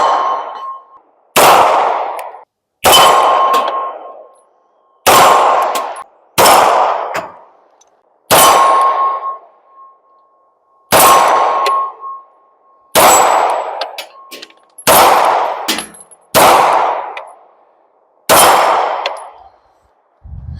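A Canik Prime pistol fires about a dozen sharp, loud reports outdoors, each shot cracking alone with short pauses in between and a ringing tail, the spacing uneven across the string.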